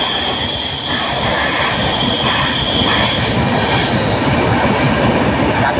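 Passenger train running on rails on the Mumbai to Pune route toward Lonavala, a steady loud rumble with wheel squeal and faint clickety-clack throughout, no voices.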